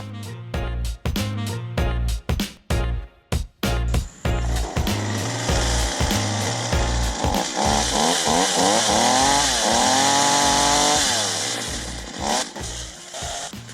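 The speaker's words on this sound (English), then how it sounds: "Nick's on the chainsaw here and he's cutting down a couple trees to make a new entrance to this corner" Chainsaw cutting down trees at a motocross track build, loud and close, with choppy revving bursts first, then a sustained high whine as the chain bites through wood.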